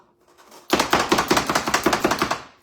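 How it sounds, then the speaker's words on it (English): Onions chopped in a manual chopper, a quick series of about a dozen rhythmic, close thumping chops after a short quiet start. "the more you chop it, the smaller it gets"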